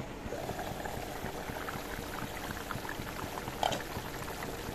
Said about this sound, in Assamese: ইয়া উতলিবলৈ ধৰিছে